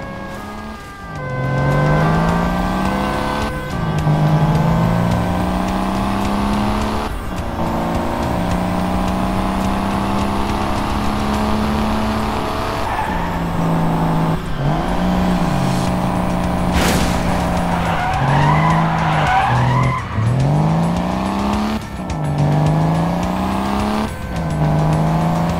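Cobra 11 driving-game car revving hard through repeated rising gear-change sweeps, with a brief tire-squeal skid midway; a loud, continuous engine drone with no talk.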